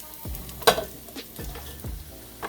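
Onions in olive oil sizzle softly and steadily in a pan, broken by a few low knocks and scrapes of stirring and one sharp clatter; no one speaks.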